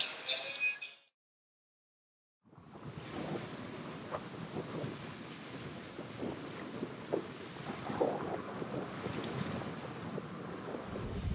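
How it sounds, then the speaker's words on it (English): Wind blowing on a river, a sustained rough rush with buffeting gusts after a brief silence, loud and close against the microphone. "on the river with a wind that's actually helping me out"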